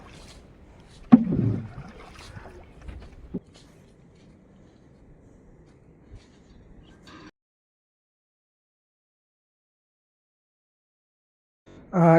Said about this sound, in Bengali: একদিকে যদি মানে বৈঠা মারি, আরেকদিকে মনে করেন সাইড হয়ে যায়